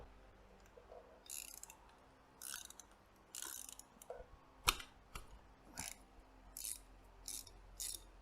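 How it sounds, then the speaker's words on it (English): A ratchet wrench clicks in repeated short bursts while backing out bolts on a Harley-Davidson drive sprocket, with a couple of sharper metallic knocks mid-way; close and fairly quiet, no talking. "there's 2 bolts here. We're going to go ahead and take those bolts out."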